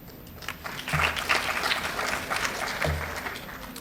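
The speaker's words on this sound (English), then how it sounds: "those who conceptualized and founded Sagcot deserve a round of applause for this." An audience applauding at a partnership forum, a short burst of scattered clapping that builds and then thins out, fairly faint and heard alone.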